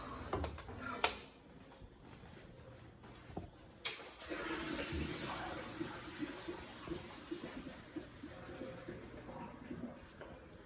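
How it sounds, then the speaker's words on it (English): Pasta water poured from a pot into a kitchen sink, starting with a couple of sharp clanks, then a sustained rushing, gurgling flow of moderate loudness with small metallic knocks throughout. "let me just drain the pasta"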